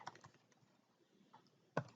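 Computer keyboard typing in a quiet room, a few sparse, isolated key clicks, with one sharper, louder keystroke near the end.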